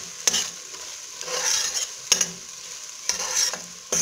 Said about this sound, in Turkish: Tenceremizde bir araya getirdiğimiz bu malzemelerin hepsini salça ile bu şekilde kavurmaya devam ediyoruz.